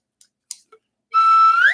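A few small clicks and taps sound first, then a whistle is blown in one loud, sustained shrill blast that rises in pitch near the end.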